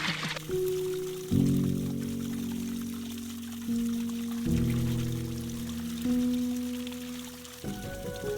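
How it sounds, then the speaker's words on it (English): Cold stream water pours into a water bottle, the gurgling tone rising in steps as the bottle fills, with brief pauses between pours and running water behind. "I'm actually gonna fill up my water here because this water is really cold"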